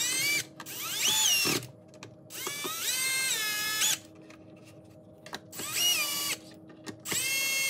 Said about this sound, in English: So now we will tighten the screws here.